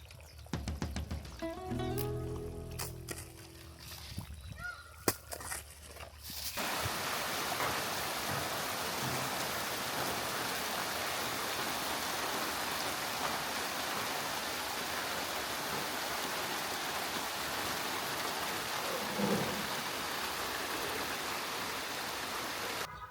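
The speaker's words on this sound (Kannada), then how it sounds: "ಮಳೆ ಜೋರಾಯ್ತು ಅಣ್ಣ" Heavy rain pours down on a garden farm plot in a steady, dense hiss that holds at an even level throughout, after a short stretch of mixed noises at the start.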